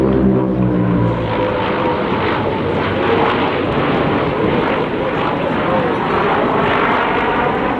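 A propeller aircraft flies an aileron roll at the 1995 Fairford airshow, its engine a loud continuous drone with a shifting pitch as it passes, under a commentator's voice over a public address system.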